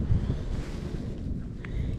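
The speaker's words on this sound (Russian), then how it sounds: "Ветер." Strong stormy wind buffets the microphone on a fishing boat at sea, a heavy continuous low rumble and roar with water sounds underneath.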